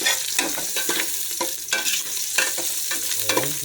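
Onions sizzle in a hot pan while a utensil stirs them, scraping and clattering in irregular strokes over a continuous close frying hiss.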